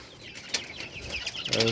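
Farm chickens kept on an open rooftop, heard as soft clucks and brief wing flaps with a short burst of louder fowl calls near the end, close by against a quiet background.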